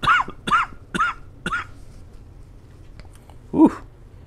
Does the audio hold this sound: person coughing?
yes